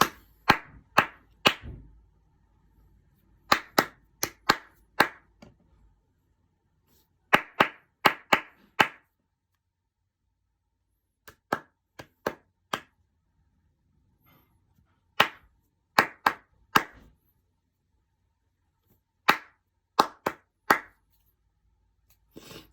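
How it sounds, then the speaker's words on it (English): Crisp hand claps in a rhythmic pattern, grouped bursts of quick claps separated by short and longer pauses, close and clear against near silence, taught as a musical rhythm from a world culture. "we'll also do the clapping before we do the singing"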